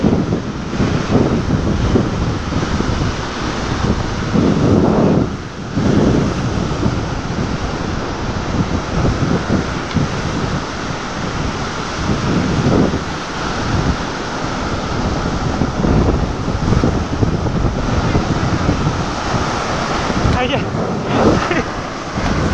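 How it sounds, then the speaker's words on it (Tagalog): Waves and gusting wind on a river near resorts, a dense continuous wash of turbulent water and wind buffeting the microphone for over twenty seconds, with occasional voices in the background. "Mahagip tayo ng alon baka tayo madala."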